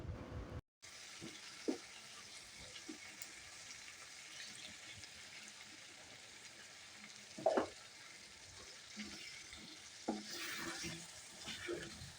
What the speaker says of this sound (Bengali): এখন আমি যে ভাজা করা মাংসগুলো ছিল সেগুলো একটা একটা করে সব দিয়ে দিচ্ছি